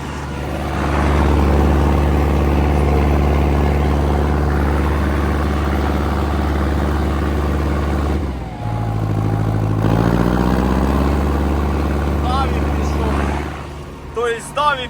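A heavy MTZ tractor engine drones loudly and steadily as it drives in a field while ploughing, dipping briefly midway before the rumble resumes and rises in pitch.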